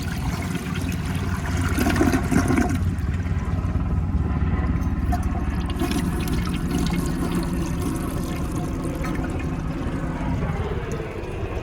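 A 1977 Universal-Rundle Citation toilet flushes, a rushing surge of water that peaks early, then settles into a steady gurgling refill at moderate loudness with no talking.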